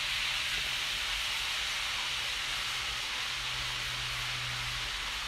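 Food frying close by during a live showroom stream: a steady, fairly loud sizzling hiss runs unbroken from start to finish, with no voices over it.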